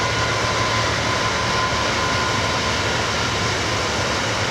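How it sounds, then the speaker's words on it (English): A freight train passes in the distance beside a canal lock in rural Wiltshire, producing a broad, steady rumbling roar that holds constant without a break, with no voices. "There, you can just about make out a freight train."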